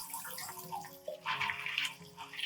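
Water pours and splashes in a steady rinse over orchid roots, a broadband wash that swells louder midway and carries on without a break, close and alone.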